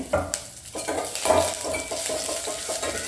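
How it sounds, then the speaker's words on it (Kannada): Ginger, green and dried chillies and curry leaves sizzle in hot oil in a pan, a steady crackling fry broken by a few stirring scrapes and clinks, with no talking. "ಸ್ವಲ್ಪ ಎಣ್ಣೆಲಿ ಬಾಡಲಿ ಇದು."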